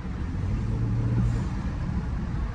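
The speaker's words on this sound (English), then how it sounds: "But you low key hear the turbos though." BMW F10 535i turbocharged sedan cruising, a steady low engine drone and road rumble heard from inside the cabin at moderate level, with no distinct turbo whistle standing out.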